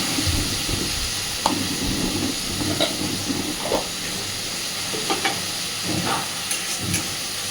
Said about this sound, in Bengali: লবণ হলুদটা দেওয়াতে চিচিঙ্গাটা অনেকটা মজে যাবে আর চিচিঙ্গা থেকে অনেকটাই জল বেরিয়ে যাবে।